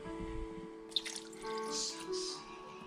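Water poured into a pot of pork adobo, a brief splashing pour with gurgles and drips following a faint clink, alone with no talking.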